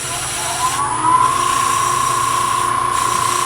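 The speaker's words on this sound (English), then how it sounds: "I'm going to very lightly sand right here on the end." Light sanding on the end of a spinning wood piece on a lathe produces a steady, loud hiss and rushing whir over the lathe's constant drone, with a rising whine as the paper makes contact.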